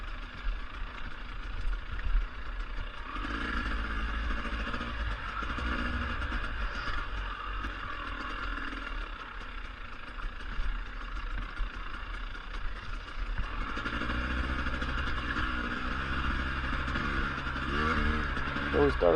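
A dirt motorbike rides a narrow single-track forest trail at Tahuya, the engine droning and rising and falling with throttle changes throughout, close and continuous, with a voice speaking over it at times.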